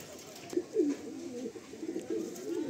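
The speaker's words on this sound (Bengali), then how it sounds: "এই শফি ভাইয়ের হয়ে আমি এই পায়রা দেখাচ্ছি" Fulsira Madrasi pigeons cooing softly at close range, several low, rolling coos in a quiet setting.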